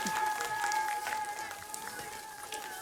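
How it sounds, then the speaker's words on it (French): Audience applause at a children's show about recycling, a dense steady patter of clapping from a crowd with some cheering mixed in, holding fairly even and easing slightly toward the end. "On les applaudit! Bravo les champions."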